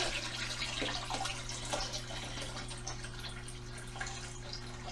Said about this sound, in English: pour the water and the shrimp in.